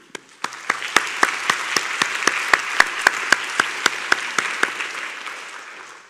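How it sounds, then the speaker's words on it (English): Audience at a university congregation and prize presentation ceremony clapping in a round of applause, a full, steady patter with sharp individual claps standing out in a regular rhythm, swelling then fading toward the end. "Please join me in giving them a round of applause too."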